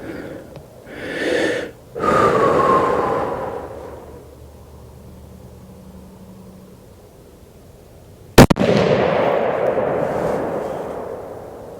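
A Browning A-Bolt Medallion rifle in .300 Win Mag, topped with a Nikon 4-12 power scope, fires once while being sighted in before Pennsylvania rifle season. The loud, sharp crack is followed by a long rolling echo, and breathing sounds come just before it.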